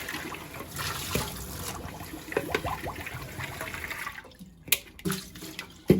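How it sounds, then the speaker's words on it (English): Water runs and splashes from a kitchen tap while a bowl is rinsed, a steady wash of sound broken by clinks and bumps. The flow cuts near the end and a few sharp knocks follow. "I'm going to give this bowl a little rinse."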